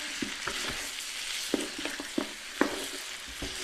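Degi korma fries on high heat in a pot, with a steady sizzle and hiss. Frequent scraping clinks from stirring cut through it at close range, and no one speaks.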